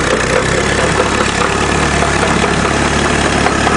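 A Peugeot 106 with a 1.6 turbo diesel engine idles steadily and loudly nearby, a constant low diesel rumble with a faint knocking texture and no voices.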